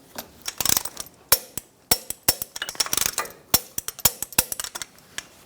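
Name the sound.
torquing differential bracket bolts on a Chevrolet Silverado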